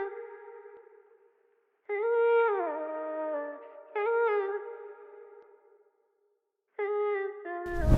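Clean, sustained guitar notes and sliding phrases drenched in reverb, ringing out with gaps between, ending in a sudden noisy burst.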